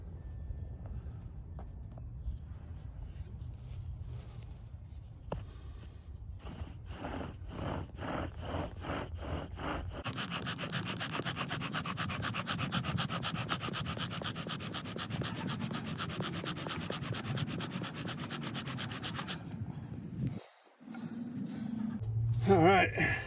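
A bow drill spindle grinds into a hard 2x6 board under a fatwood bearing block, starting with scattered rubbing strokes, then settling into a fast, steady back-and-forth sanding rasp, close and loud, with a sharp break near the end.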